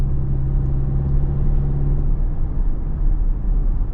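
A 2024 Toyota Tacoma with a manual transmission pulls under load, its engine a steady, loud low rumble with a brief firmer harmonic drone early on, continuous and close with no talking.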